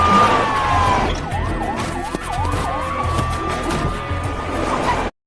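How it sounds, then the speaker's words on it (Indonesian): Police car siren wailing loudly and close, its pitch sweeping in rapid yelps before settling into a steady high tone, over rumbling traffic noise throughout. "Mendengar suara sirena mobil polisi"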